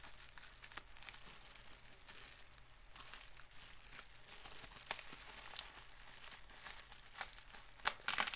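Faint, close crinkling and peeling of packing tape being worked off a cardboard package, soft irregular rustles building to sharper tearing sounds at the end.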